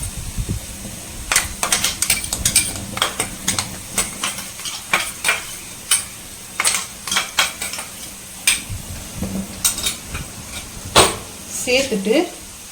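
Ground paste being stirred into garlic pickle in a pan, a run of close, sharp clinks and scrapes of a spoon against metal in an uneven rhythm, with a voice talking briefly near the end.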